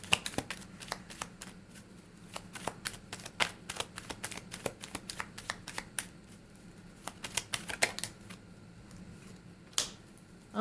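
Tarot cards being shuffled for a reading: soft, close, rapid riffling and tapping clicks in irregular bursts, quiet with faint room noise and no talking.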